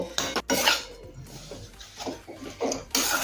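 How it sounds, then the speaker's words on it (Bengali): Grated coconut and date-palm jaggery being stirred in a wok, heard as irregular metallic scrapes and clinks of a utensil against the pan, with bursts close and fairly loud and quieter gaps between them. "এখন গুড় নারকেলের সাথে খুব ভালোভাবে মিশিয়ে নেব।"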